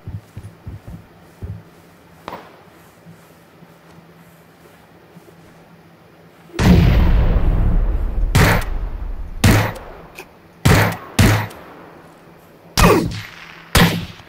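Sniper rifle gunfire in the battle royale video game PUBG: after a quiet stretch of faint thumps, a loud blast opens a long rumbling stretch, followed by several sharp, loud cracks spaced a second or two apart.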